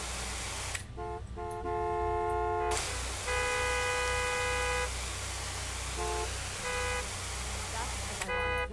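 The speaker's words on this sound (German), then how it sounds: "Hört doch das Hupen auf, davon tankt er doch auch nicht schneller meinen Tank." Car horns honk repeatedly at a fuel pump in Gas Station Simulator, a mix of sustained blares and shorter toots over steady ambient noise.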